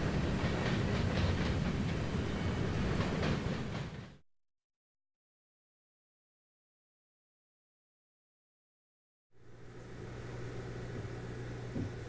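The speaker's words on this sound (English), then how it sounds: "You probably recognize this train. It's the Enola-bound Train 11Z" A freight train bound for Enola rumbles past nearby with a clattering, rolling roar; the sound cuts out entirely midway, then the train noise resumes, somewhat quieter.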